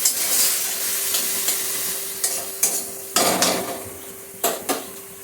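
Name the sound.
stirring greens in a pan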